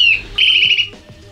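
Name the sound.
Eurasian nuthatch (sittelle torchepot) song recording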